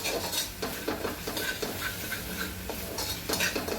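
Chicken lollipop masala is stir-fried in a pan, with repeated scraping and clinking of a spatula against the metal over a low, steady sizzle, close and moderately quiet.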